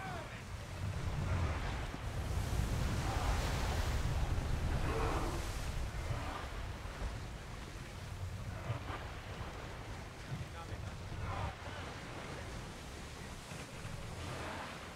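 A ship sailing on the sea in the video game Assassin's Creed Odyssey, with steady wind and wave wash that rises and falls over fifteen seconds at a moderate level, with no clear speech.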